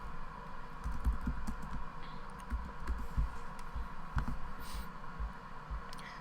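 A computer keyboard is tapped in a scattered run of keystrokes while shortcuts are entered, soft close clicks in irregular bursts over a faint room hum.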